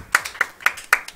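A few slow, scattered claps from a small group at a Street Fighter V tournament, sparse and unenthusiastic, in a roughly steady rhythm.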